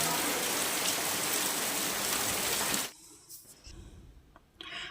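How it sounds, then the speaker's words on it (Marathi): Dense, steady rain hisses loudly for about three seconds, then cuts off abruptly, leaving quieter scattered sounds and a faint low rumble. "बाहेर पाऊस काय थांबायचं नाव घेत नव्हता"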